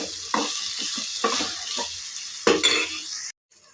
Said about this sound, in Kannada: ಚೆನ್ನಾಗಿ ಫ್ರೈ ಆಗ್ತಿದೆ ಆಯಿಲಲ್ಲಿ